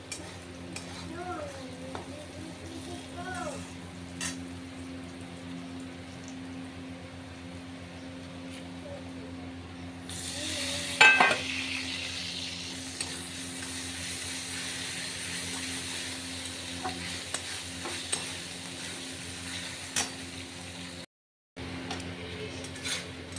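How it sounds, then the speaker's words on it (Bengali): Onion frying in a pan with salt and turmeric, a low steady sizzle with occasional stirring and utensil clinks, moderately close, with a brief louder scrape partway through. "এখানে পেঁয়াজটা ভালো করে ভেজে নিয়েছি নুন আর হলুদ দিয়ে আর একটু ভাজা হবে"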